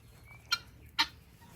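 A chicken gives two short, sharp clucks about half a second apart, close by outdoors on a farm, over quiet background hum.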